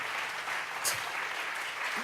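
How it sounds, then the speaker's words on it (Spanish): A church congregation claps together as an offering of praise to God, a steady, dense burst of applause that fills the room. "Vamos a regalarle una ofrenda de palmas al Dios de la gloria"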